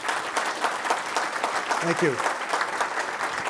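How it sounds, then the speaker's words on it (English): An audience applauds a speaker at the close of his talk on Rome's fall, a steady wash of clapping under a brief thank-you from a nearby speaker. "Let's give a round of applause for Mr."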